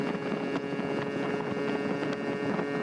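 A Yamaha Towny MJ50 moped with a Malossi top end and VM20 carburetor runs with a steady droning hum, mixed with wind rush over the microphone, fairly quiet and continuous, with no talking.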